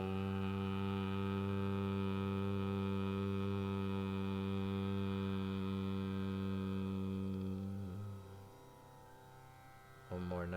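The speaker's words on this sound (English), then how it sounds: "That humming, very grounding" A sustained, droning Om hum from people meditating holds steady for several seconds, then fades and breaks off, followed by a short rising vocal sound near the end.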